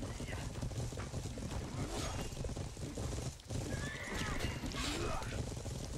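A horse neighs in the medieval battle video game Odin's Chosen, a rising whinny heard over a dense wash of battle noise, hoofbeats and clamor, with someone talking throughout.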